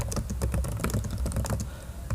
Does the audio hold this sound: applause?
no